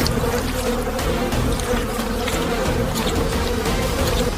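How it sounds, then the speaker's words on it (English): Dense, steady swarm of bees buzzing loudly and close around a honey badger climbing a tall tree in the African wild, continuous drone without pauses. "Thousands of bee stings can't stop him."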